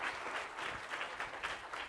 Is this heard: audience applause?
yes